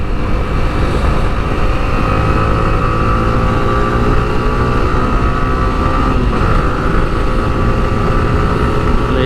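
An Apache 4V motorcycle engine drones loudly and continuously on an expressway, its pitch rising slightly as it pulls, blended with rushing wind.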